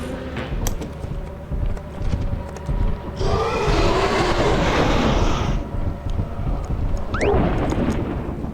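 A spaceship lifts off in the video game Lethal Company with a loud, steady roaring rumble lasting a couple of seconds, then a second rising whoosh shortly after over a constant low hum.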